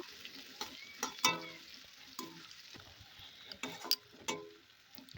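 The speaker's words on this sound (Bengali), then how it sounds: "ওর মধ্যে পেঁয়াজ কুচিটা দিয়ে দিচ্ছি, দিয়ে ভালোভাবে পেঁয়াজ কুচিটা একটু হালকা করে ভেজে নেব" Chopped onion fries in heated oil in a wok, a faint soft sizzle punctuated by sharp clinks and scrapes of a spatula at irregular intervals, with no speech.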